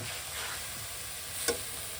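Shushni greens with green chilli and garlic frying in a pan, giving a steady soft sizzle with faint stirring and one brief clink partway through.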